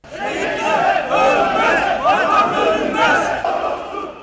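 Protest crowd of veterans and relatives of fallen soldiers chanting slogans condemning terrorism outside a party building in Ankara, many voices shouting in rhythmic bursts, loud and close.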